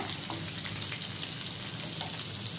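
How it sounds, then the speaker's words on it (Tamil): Onion and green chillies sizzling in hot oil in a pan for coriander chutney, a continuous bright crackling fry with small pops, close and steady, no voices. "இப்போ வெங்காயம் இது கூட சேர்த்துக்கிறேன் பச்சை மிளகாய் சேர்த்துக்கிறேன்"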